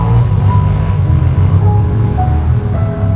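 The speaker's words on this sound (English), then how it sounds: "All those noises, all those motorbikes, all those engines." Motorbike engines run near a beach, blending into a loud, continuous low rumble with droning engine tones rising and falling as bikes pass, over steady outdoor background noise.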